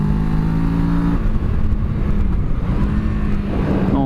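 A 2017 Kawasaki Z650 motorcycle, restricted to A2 power, rides along with its engine droning loud and steady at close range, the pitch holding level, dipping briefly, then rising again near the end.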